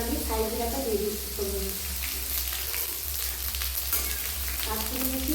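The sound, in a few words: kasuri methi and shahi jeera sizzling in hot oil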